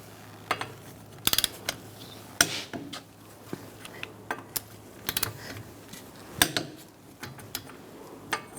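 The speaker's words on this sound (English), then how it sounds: "Using a 17mm socket, we're going to torque our wheels to 63 foot-pounds." A torque wrench with a 17mm socket tightens wheel lug nuts to 63 foot-pounds on a 2012-2019 Fiat 500 1.4L. Quiet, irregular sharp metallic clicks and taps sound over a faint background hum.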